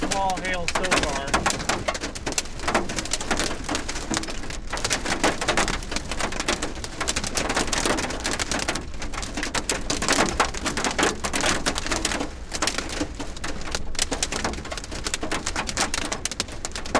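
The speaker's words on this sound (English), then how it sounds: "Small hail so far." Small hail and rain falling hard during a storm in Northwest Texas, a dense continuous pelting patter on surfaces throughout, with a person talking over it.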